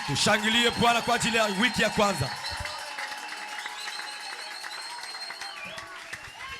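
A church congregation applauds after a preacher's acclamation of the Lord: a voice speaks over the first seconds, then sustained clapping and crowd noise carry on at moderate level to the end.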